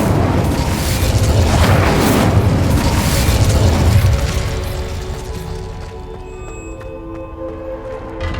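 Incendio fire spell erupting in Hogwarts Legacy: a loud, booming burst of flame that rolls on for about four seconds, then fades into a quieter lingering rumble and crackle.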